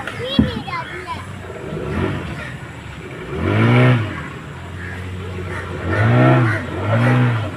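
Congested road traffic in Pondicherry, with engines idling and surging in a few swells, horn-like tonal blasts, and people talking and chattering throughout, close and fairly loud.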